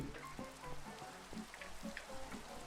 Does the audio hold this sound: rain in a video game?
yes